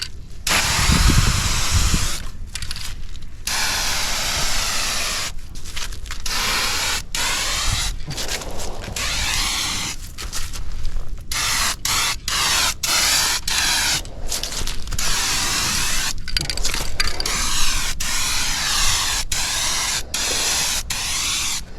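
Gloss white spray cans misting paint onto a car at home, loud hissing bursts repeated in short and long passes separated by brief pauses, close up with no speech.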